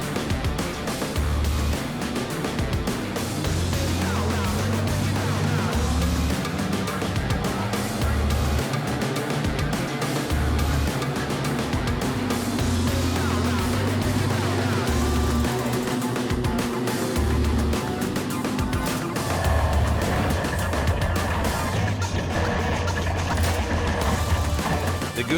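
Six-cylinder wingless sprint cars at an Australian championship dirt-track race, engines roaring continuously and loudly with a mix of sudden crashing impacts and rough thumps, crowd and track noise filling the background.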